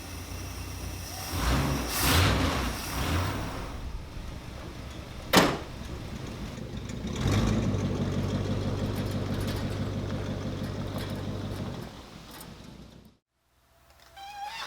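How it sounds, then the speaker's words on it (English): A long-stored barn find car cranks and tries to catch, with bursts of engine noise and a sharp knock midway, running roughly for several seconds before cutting off abruptly into near silence. "let's see if she'll start up and pick up some gas from the tank"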